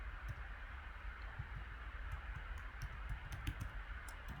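Keys on a computer keyboard are tapped at a steady pace for a Windows 10 password login, a string of close, light clicks over a soft background hiss.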